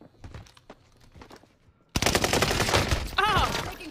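Machine gun fire in a shooter video game bursts in loud and dense halfway through, after quieter sounds, with a voice talking over it.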